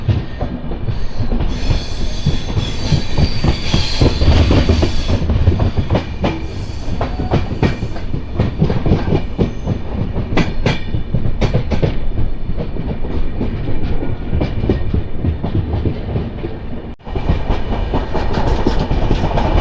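Passenger train running along the Konkan railway near Bhatkal, with a steady rumble, rhythmic clickety-clack of wheels over rail joints and occasional wheel squeal; loud and continuous from on board, with no talk.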